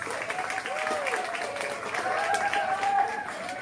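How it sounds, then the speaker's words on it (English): Applause from the audience at a school graduation ceremony, thanking parents and teachers: a steady wash of many hands clapping at moderate distance, with voices and faint cheering mixed through it. "let's all clap in appreciation for our supportive parents and dedicated teachers"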